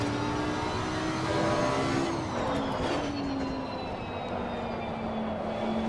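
A GT3 race car in Assetto Corsa Competizione accelerates out of a corner, its engine droning loud and steady with rising and falling pitch through the gears, heard alone at close range.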